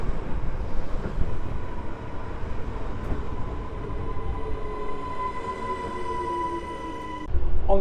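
A first-class SBB train travels from Switzerland toward Genoa with a steady, close rolling rumble and faint whining tones, and nobody speaks.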